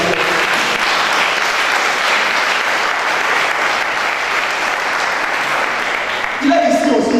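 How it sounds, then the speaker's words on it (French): A church congregation applauding, loud sustained clapping from many people filling the room evenly, with a voice starting to speak over it at the very end. "Applaudissez le Seigneur"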